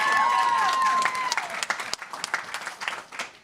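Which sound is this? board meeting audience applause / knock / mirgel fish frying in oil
board meeting audience applause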